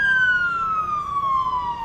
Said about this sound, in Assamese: অহৰহ চাইৰেনৰ শব্দ